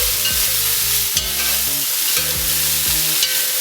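Paneer cubes and green peas sizzle and fry in a hot pan while a spoon stirs and scrapes them, with rhythmic clacking strokes over a steady crackling hiss, close and clear.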